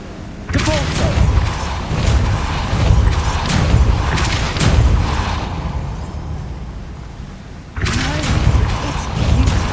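A Depulso spell cast in the video game Hogwarts Legacy lands as a loud, booming force blast with a rumbling wash of debris and impact noise, then a second burst strikes near the end.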